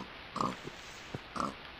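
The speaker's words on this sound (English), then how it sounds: "I'm beating these pigs to death with their dead friends." Pigs in a video game grunt and oink as they are beaten, two short squealing bursts separated by quiet thumps, fairly faint.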